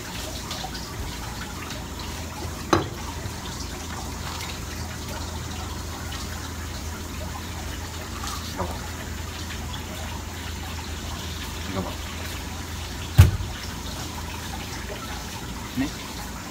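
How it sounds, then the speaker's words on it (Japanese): Running tap water rinses a freshly filleted bonito, a steady close hiss of flowing water with a few brief splashes and knocks as the fish is handled. "水で洗います。"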